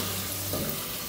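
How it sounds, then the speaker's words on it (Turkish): Cubed potatoes frying in hot oil in a pan on a stovetop give a steady, close sizzle and crackle with no talking. "Geri kalan patateslerimi de aynı şekilde kızartacağım."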